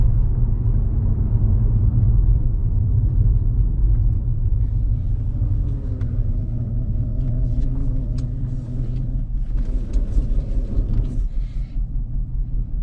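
The engine of a cheap older Mercedes is heard from inside the car as a low, loud rumble while driving with a cylinder misfiring, the drone uneven throughout and road noise rising near the end.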